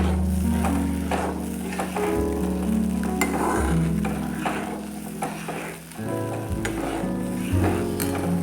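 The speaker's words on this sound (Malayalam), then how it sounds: "ഇനി നമ്മൾ കൈവിടാതെ ഇളക്കി കൊടുക്കാം." Arrowroot flour dish being stirred continuously in a pan over low heat, giving a steady close sizzle with soft scraping strokes throughout, no talking.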